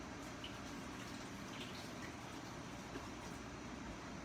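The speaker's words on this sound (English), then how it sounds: "Let me rinse my hands off." Water runs steadily from a kitchen tap as hands are rinsed, a soft, even, continuous gush without pauses.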